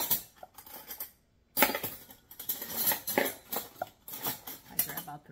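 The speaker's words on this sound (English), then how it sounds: "So I'm going to take a small spoon." Small metal spoon clinking and scraping in a dish of Arizona taco relish, a string of light, close taps and scrapes after a brief pause, fairly quiet.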